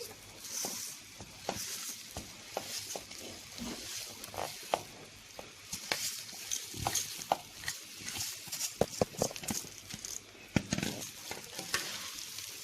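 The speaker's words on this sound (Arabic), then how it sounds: "هبدا بقى انزل في الرز بتاعي" Rice is stirred into browned vermicelli in a pot while making Egyptian koshari, with a steady frying sizzle and repeated scraping stir strokes close by, and no talk.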